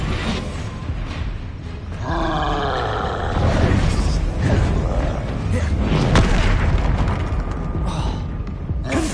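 A troll fight in Hogwarts Legacy, with heavy booms, deep roaring and crashing impacts rising and falling over several seconds, loud and close amid layered game sounds.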